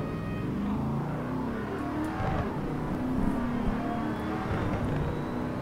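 Race car engine from the Real Racing 3 game, a Grand Tourer event at Catalunya, a steady loud droning roar with rising and falling revs, continuous and close without talk.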